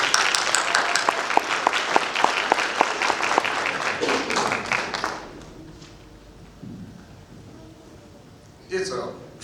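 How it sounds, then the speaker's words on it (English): Audience claps loudly at a West Memphis Fire Department promotion ceremony, a burst of many hands that fades after about five seconds into quiet room noise, followed by a brief final sound. "Big round of applause for Alderman Tracy K."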